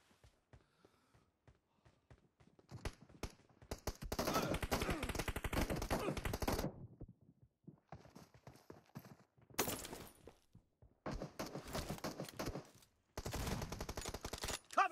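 Pistol shots in a video game shooter against bots, coming in quick clustered volleys separated by near-silent gaps, fairly faint overall with short bursts of rapid firing.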